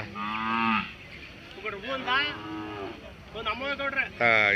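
A cow at a cattle market gives several loud, close moos, long drawn calls separated by short pauses, with faint background chatter.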